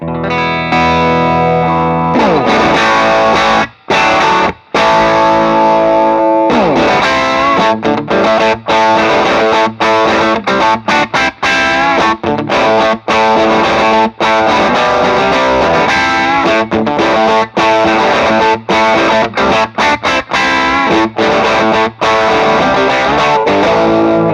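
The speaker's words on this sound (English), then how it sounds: "the second pedal in the loop here is this BAE Hot Fuzz, which is a silicon fuzz based on an old Colorsound" An electric guitar runs through a BAE Hot Fuzz silicon fuzz pedal modelled on an old Colorsound, playing loud, thick, distorted chords and riffs with heavy low end and a few brief gaps.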